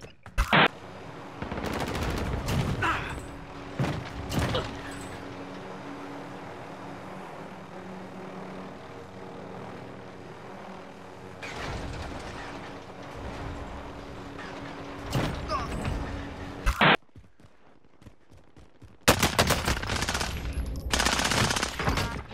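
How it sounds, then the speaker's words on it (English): Automatic gunfire from the video game Call of Duty Warzone comes in several loud, rapid bursts separated by quieter stretches of background rumble, with no talk. "They're shooting at me."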